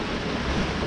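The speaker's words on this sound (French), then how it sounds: "Ce sont plus les vagues qui nous dévient que le vent. Et le vent est monté, il est à 18-20 nœuds là." Waves and wind at sea around a small sailboat in an 18–20 knot breeze: a steady, close, full rushing wash with no pauses and no voices.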